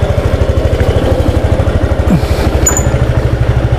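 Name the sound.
motorcycle engine idling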